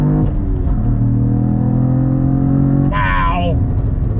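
A 2022 Cadillac CT4-V Blackwing engine holds a loud, close, steady drone on throttle, then its revs climb sharply near the end.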